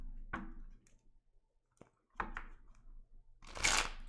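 Stiff, good-stock tarot cards being shuffled, giving a few sharp, close riffling clicks and snaps separated by quiet pauses, ending in a louder burst of flutter.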